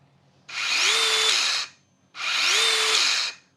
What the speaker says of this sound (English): Brings that spinning blade to a stop quickly.